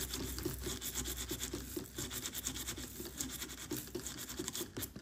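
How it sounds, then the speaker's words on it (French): A small brush scrubs with quick, steady scratchy strokes inside a Nintendo Switch around its fan, close up and continuous throughout, over a faint background hum. "Je cherche ma petite brossouillette qui est là, juste pour nettoyer l'intérieur."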